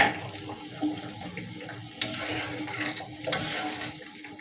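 Boiled water poured into a pot of parshe fish curry with spiced potatoes, a soft, quiet splashing and gurgling pour with a few brief louder splashes partway through.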